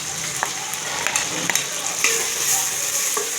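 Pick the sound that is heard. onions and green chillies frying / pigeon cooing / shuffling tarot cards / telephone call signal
onions and green chillies frying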